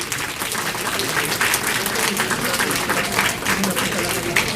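Loud, dense applause from a large crowd at a university event distributing assistive devices to people with disabilities, sustained and steady for the whole stretch without a pause.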